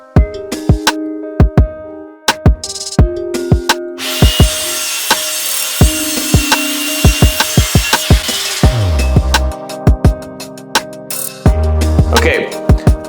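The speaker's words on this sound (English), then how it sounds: "find a piece of wood and cut off the slanted parts" Hand sawing through a piece of wood to trim off slanted ends for a homemade macebell, heard as a run of sharp, uneven strokes and clunks up close, with a dense rasping stretch in the middle.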